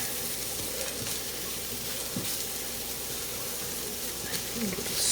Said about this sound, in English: Stir, let it cook for about a minute, just to get the flavors all melted together.